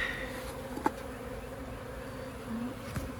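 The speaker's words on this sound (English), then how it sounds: "Still a lot of bees in there." Honey bees hum continuously inside a swarm trap, a dense, close buzzing drone with a few sharper knocks or taps rising above it.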